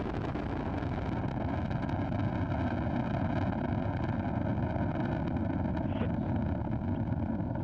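Crew launch rocket bound for the ISS, its first stage engines putting out over 930,000 pounds of thrust, makes a steady, dense, broadband roar that holds at constant loudness through the whole stretch, with no voices.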